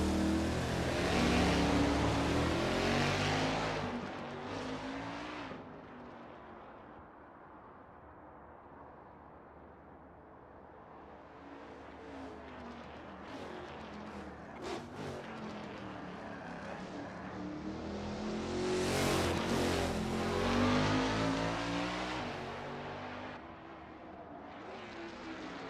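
1989 Camaro Z28 IMSA GTO and other race cars on a practice lap at the Daytona road course in a racing game: loud engine roars swelling and fading as cars pass close, with a quieter stretch between, no talk.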